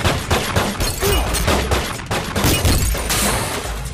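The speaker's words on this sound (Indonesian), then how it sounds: "melepaskan tembakan yang menghancurkan mobil milik Mark" Rapid bursts of gunfire crackle and crash loudly for several seconds as a car is shot up, mixed with sharp impacts and shattering noises, from a Fast & Furious film.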